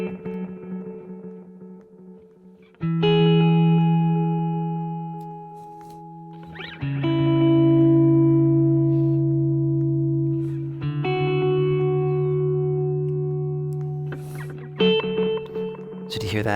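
Electric guitar chords through a stereo delay pedal, struck about four times with sustained ringing notes and repeats that trail and smear between strums, loud and close with no talking.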